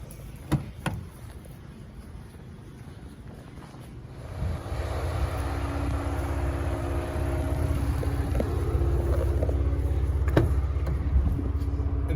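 A 2024 Ford Ranger Raptor with its 3.0L V6 and active valve exhaust, starting with a few thumps, then settling into a steady, deep engine rumble with a droning exhaust tone that holds close and loud to the end.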